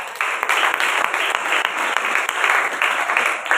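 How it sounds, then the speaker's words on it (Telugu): Sustained crowd applause fills a church fasting prayer gathering, a dense steady wash of many hands clapping together without pause. "2025 గడిగా చప్పట్లు కొట్టు."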